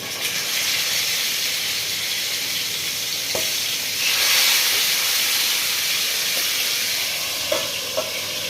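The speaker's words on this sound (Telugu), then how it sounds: "ఇప్పుడు ఇలా స్టీమ్ చేసుకున్న చికెన్ని కూడా పెట్టేసుకొని ఫ్రై చేసుకుందాం." Steamed chicken frying for chicken mandi, a steady loud sizzle and hiss of hot oil running throughout, with a few faint stirring clicks and a brief swell of spitting partway through.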